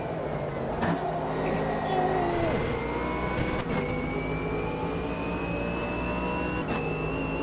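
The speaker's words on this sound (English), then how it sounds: "And that Porsche just gets traction and away it goes." A Porsche GT race car in the Automobilista 2 sim accelerates hard, its engine note climbing in steady rising pitch through the gears, loud and close over a dense bed of other cars' engine noise.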